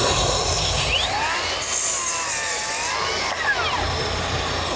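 A huge cordless circular saw cuts through material with a loud, continuous motor drone and a whine that bends up and down in pitch as the blade loads and frees.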